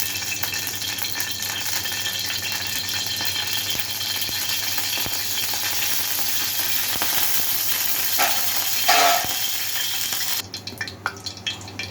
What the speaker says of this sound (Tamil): தோசை டவா காஞ்சிட்ருக்கு எண்ணெய் ஊற்றிடலாம்